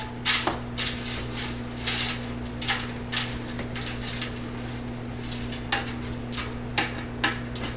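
Frozen onions stirred into ground beef in a large pot, a spoon scraping and clanking against the metal in irregular repeated knocks over a steady low hum, with no voices.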